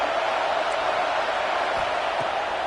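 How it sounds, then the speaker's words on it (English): A football stadium crowd roars in a steady, loud, unbroken wash of noise that holds level the whole time. "The roar of the crowd trying to fuel this defense to keep them pinned in their own end"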